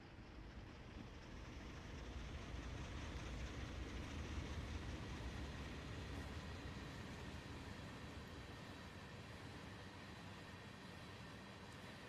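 A train in Train Sim World 2 rumbles continuously along the rails on the Horseshoe Curve, a steady low roar with faint rhythmic clatter, heard at a distance without any voices.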